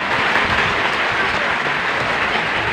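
Large crowd applauding 700 graduates at a school closing ceremony held in a hall, dense, loud and steady clapping filling the whole space without a break.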